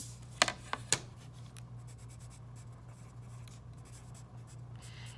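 Pencil writing a name on a worksheet, a few sharp scratchy strokes at the start followed by faint soft scribbling over a low steady hum, no talking.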